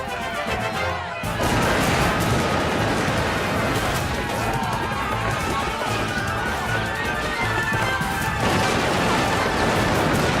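Cartoon musket fire rings out in a Revolutionary War battle at the North Bridge: a loud, dense, continuous barrage of volleys and crashes that rushes in after a brief quiet moment and keeps going without a break.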